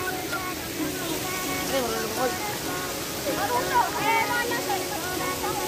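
Tulo Tulo Falls at Sitio Silid in Bulacan sends up a steady, roaring wash of falling water that runs unbroken throughout, while people talk over it.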